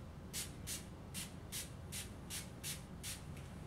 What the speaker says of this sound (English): grab our spray. We're gonna do about 8 sprays on this.